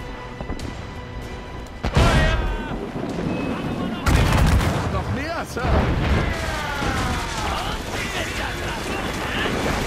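Cannons firing during a naval battle in the Assassin's Creed Rogue video game: several heavy booms over sea and wind noise, with crackling and whistling effects and voices shouting in the background.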